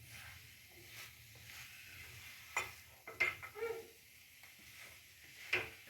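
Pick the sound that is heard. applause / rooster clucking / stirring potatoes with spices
stirring potatoes with spices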